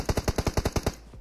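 Rapid automatic gunfire in PUBG Mobile: a tight, evenly spaced burst of about nine loud, close shots that stops after roughly a second.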